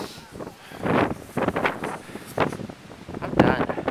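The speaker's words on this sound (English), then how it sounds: "It is so windy" Strong wind at the Great Wall of China at Badaling, buffeting the microphone in rough, uneven gusts with a constant rumble, while a person speaks over it.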